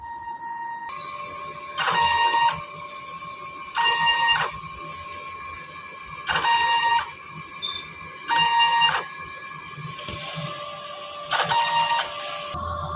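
A DTF printer head shuttles back and forth during a head-cleaning cycle in regular bursts, each pass a loud mechanical whir, repeating about six times over a steady electronic hum.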